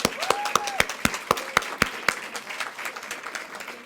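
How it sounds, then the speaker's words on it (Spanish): Audience applause at a literary evening with guest Gabriela Wiener, a dense burst of claps that starts strong and slowly thins out, with a voice briefly heard over the clapping near the start. "Otro aplauso, así me gusta."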